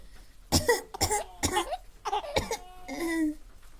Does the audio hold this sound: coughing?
yes